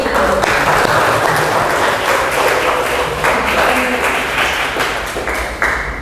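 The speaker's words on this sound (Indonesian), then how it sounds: "beri tepuk tangan dulu untuk dua pemateri" Audience applause for two speakers at an Indonesian literary discussion on short-story writing fills the room, steady and loud from start to finish with a slight fade near the end.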